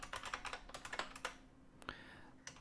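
Fingers tap on a computer keyboard while code is being edited, a close, quick run of soft clicks in uneven bursts with a brief pause partway through.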